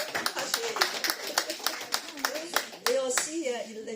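Applause from a congregation at a Sunday church service, a short burst of scattered hand clapping with people talking over it, louder voices joining toward the end.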